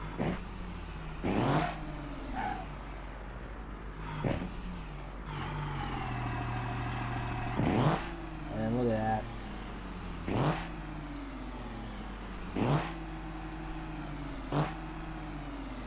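A diesel truck engine in BeamNG.drive revs in repeated sharp bursts, about eight climbs and falls with idle between, heard up close under someone talking.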